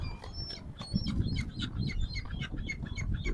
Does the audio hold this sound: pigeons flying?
yes